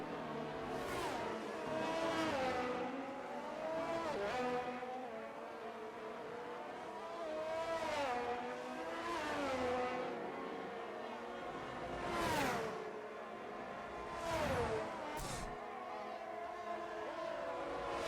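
Race car engines in a French Grand Prix racing video game, rising and falling in repeated revving whines as cars pass one after another, moderately loud with no talk over them.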